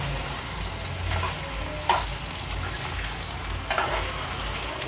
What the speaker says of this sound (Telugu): వేగుతున్నాయి చూడండి, వేగుతున్నాయి కదా.